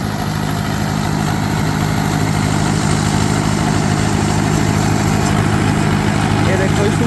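Mahindra 585 XP Plus turbo tractor running a super seeder in creeper gear, its engine droning loud and steady at close range without pause.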